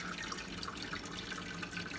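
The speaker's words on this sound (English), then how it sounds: "pour it through the sieve into the pan" Braised beef sauce pours steadily through a sieve into a pan, a continuous soft liquid splashing and trickling with no pauses and no voices.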